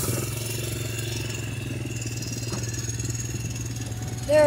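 A steady, droning International Case IH 560 tractor engine runs continuously while raking hay, holding an even mid-range hum throughout, with a brief louder burst at the very end.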